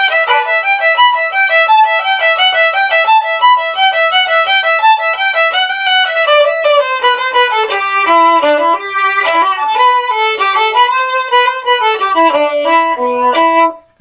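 A solo violin plays the opening measures of a song, a loud, fast run of bowed notes that climbs high and then winds down through quick descending figures, continuous for the whole stretch with no talking.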